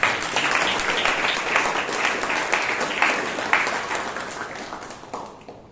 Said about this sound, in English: Since she asked for a round of applause at the beginning of the speech itself,